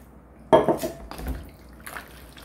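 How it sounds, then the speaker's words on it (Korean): Soju poured over pickled green plums (maesil) being put up as jangajji in a jar, a short liquid splash and clatter near the mic followed by quieter trickling, with no talk. "여기에다가 이제 마지막으로 소주를 넣겠습니다"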